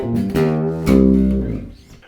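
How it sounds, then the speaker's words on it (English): A bass guitar plays a single-finger trill, or shake: sustained low notes that waver in a quick back-and-forth flutter, played alone and fairly loud. "playing those little single finger trills or shakes that you've probably heard in loads of different bass fills"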